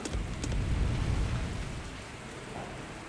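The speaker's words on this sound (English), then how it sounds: "A green rain has descended upon the valley." Green rain in the video game Stardew Valley comes through as a soft, steady patter of falling rain, strongest at the start and then easing a little, with no voices over it.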